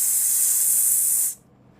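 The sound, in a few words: voice imitating hissing S sound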